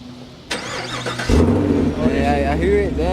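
A Chevrolet Camaro with push-button start cranks and fires up, then settles into a steady, close idle while people talk over it.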